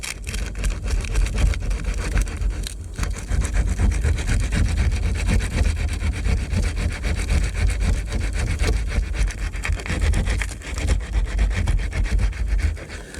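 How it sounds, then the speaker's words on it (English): Sandpaper rubs over welded polyethylene plastic on a cracked kayak repair, a steady, close, raspy scraping of quick back-and-forth strokes that goes on without a break and without any talking. "So I've got a razor blade, got a little sandpaper,"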